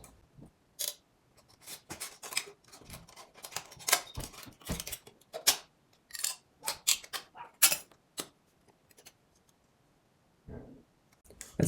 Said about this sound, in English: grab your scissors and cut this thing out